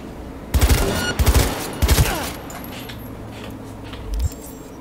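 Gunfire in the video game Cyberpunk 2077 as a target is taken out: three quick bursts of sharp, punchy shots in close succession, followed by lingering game effects and a final low thud.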